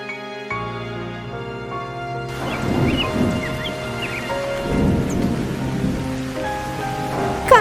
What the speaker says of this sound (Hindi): अरे सचमुच में हवा की रफ्तार तो बहुत तेज है, लगता है बारिश भी खूब घनघोर आएगी।